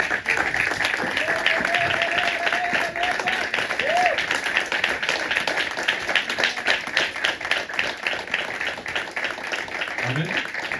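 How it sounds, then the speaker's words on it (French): Church congregation at a Sunday service clapping and applauding steadily throughout, a dense, loud, continuous wash of hand claps with voices mixed in. "Nous allons lever pour acclamer la parole de Dieu."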